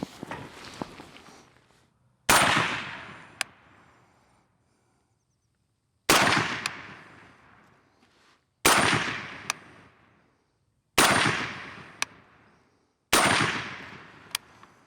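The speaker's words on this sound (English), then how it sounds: "I'm going to shoot a set of 5 and see how it groups at 100 yards." A Sig Sauer MCX Spear battle rifle fires 147-grain .308 NATO M80 rounds at a 100-yard range, five loud sharp shots spaced a few seconds apart, each followed by a decaying outdoor echo.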